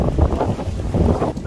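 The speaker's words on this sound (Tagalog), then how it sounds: "Para lang makabalik kasi talaga taras ng hangin." Strong wind buffets the microphone in a steady, loud rumble while out on the water by boat near Farm Ridge in Pantabangan, Nueva Ecija, with no voices.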